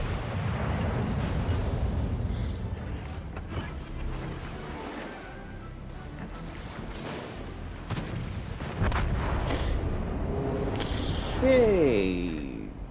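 Battleship Marlborough's 15-inch guns fire at point-blank range in World of Warships Legends, with deep rumbling booms and blasts rolling under continuous talk.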